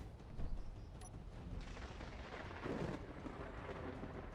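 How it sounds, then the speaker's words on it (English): Rumbling thunder in the survival video game Space Engineers, a low continuous roll with a swell around the middle, faint and distant, heard alone. "Ooh, I hear thunder."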